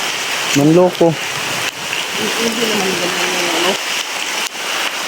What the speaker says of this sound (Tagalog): Malakas ang ulan mga tol